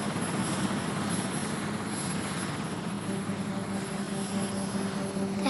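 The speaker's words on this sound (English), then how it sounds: "The helicopter was very noisy." Steady, loud rotor and engine roar fills the whole clip, a constant heavy drone as if heard from inside a helicopter.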